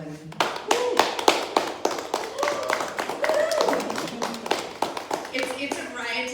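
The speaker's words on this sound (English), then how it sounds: "It's a riotous applause," Sparse applause from a small audience at a poetry reading in a hotel, individual claps in an uneven rhythm, with a voice talking over them.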